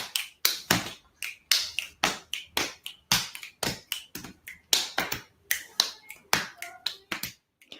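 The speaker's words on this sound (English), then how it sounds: "Boom, snap, clap, boom, snap, clap" Body percussion pattern of stomps, finger snaps and claps in a steady repeating groove, crisp and close, each sharp hit spaced evenly with no talking.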